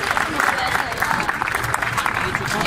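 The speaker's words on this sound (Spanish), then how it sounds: "¡Un fuerte aplauso!" Audience applause at an event at Spain's Ministry of Equality, a loud, dense clapping from a crowd, sustained and close, with faint voices mixed in underneath.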